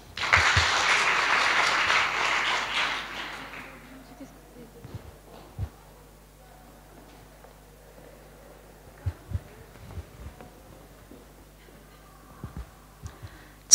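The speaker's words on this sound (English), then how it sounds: "please also give her a soft round of applause" Warm burst of audience applause at a school TED-Ed club showcase, greeting a student speaker, strong for about three seconds before fading into a quiet room with occasional soft knocks and shuffles.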